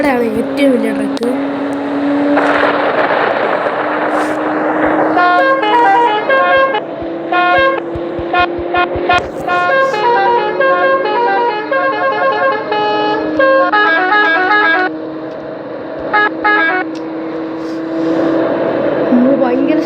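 Trucks driving in the video game Bus Simulator Indonesia, a continuous engine drone overlaid with repeated horn toots and musical honking patterns, loud and close, with a voice talking over it.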